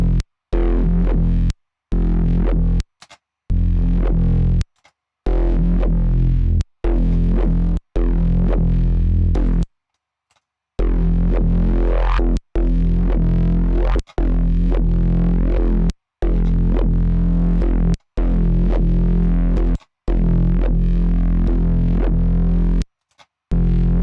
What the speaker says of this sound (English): So we got very targeted distortion.